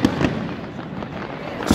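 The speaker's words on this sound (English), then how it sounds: "We got this cool fireworks show going on behind us." Fireworks show in Pamplona, Spain booms in the background, with a few sharp bursts at the start and end over a crackling, rumbling wash.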